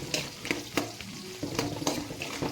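Onions fry in a pan for puri upma, giving a steady close sizzle with repeated sharp scraping taps of a spatula stirring them, and no voices.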